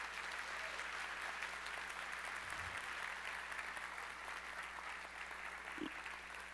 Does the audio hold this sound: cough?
no